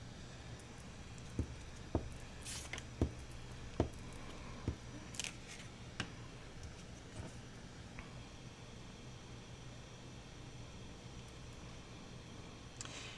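Quiet, sharp snips of scissors cutting paper, a series of irregular crisp clicks spaced a second or so apart over a faint hiss.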